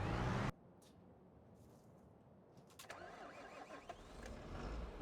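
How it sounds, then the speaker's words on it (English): A tractor engine in Farming Simulator cranks and catches, then settles into a low, steady idle that swells slightly, heard fairly close after an abrupt cut from a louder sound. "Oh, there's our tractor."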